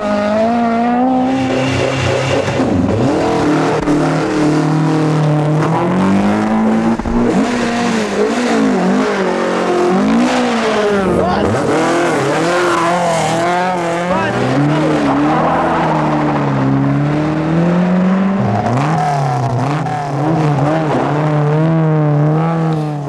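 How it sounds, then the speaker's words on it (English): Rally cars from the 1980 Galway International Rally roaring through the village of Peterswell, engines revving hard and rising and falling as they pass close by, with tyre squeal and a commentator talking over them. "the quiet little hamlet of Peterswell is shattered with the roar of trusty engines"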